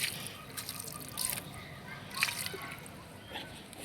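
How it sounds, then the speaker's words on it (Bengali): Water sprinkled by hand over a freshly planted aloe vera cutting in soil: a few soft, close splashy bursts and light patters over a quiet background. "এখন আমি এখানে পানি ছিটিয়ে দিয়েছি।"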